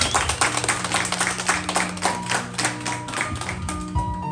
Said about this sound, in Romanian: Haideți să o aplaudăm cu toată lumea